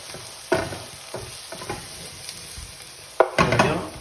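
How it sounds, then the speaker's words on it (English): Onions sauté in a pan for a vegetable bhaji stir-fry, a soft steady sizzle with a few scraping stirs of a utensil close by. "You don't want to overdo it with the onions, just a nice saute on those."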